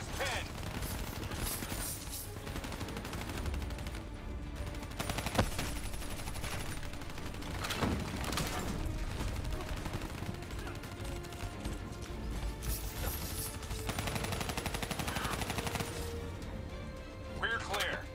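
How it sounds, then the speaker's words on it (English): Turret machine gun fire in the Call of Duty Black Ops III campaign: sustained rattling bursts and scattered impacts running throughout, with voices talking over the steady clatter. "Turret's got us pinned."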